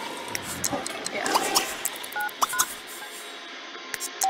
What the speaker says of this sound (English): then we're calling the next dude over